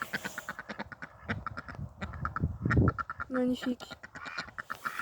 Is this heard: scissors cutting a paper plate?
no